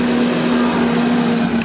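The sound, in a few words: garbage truck passing by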